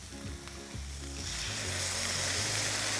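Chopped onion and garlic softening in a pan for a one-pan chicken dish, a steady close sizzle that swells louder and brighter partway through, alone with no voices.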